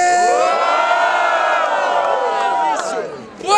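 Crowd at an outdoor student rap battle cheers and shouts loudly in one sustained roar with whoops and high voices, close and dense, fading slightly before a fresh burst at the end.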